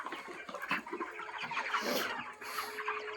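Broiler chickens cluck in a dense, continuous farmyard chorus, overlapping calls filling the space at close range.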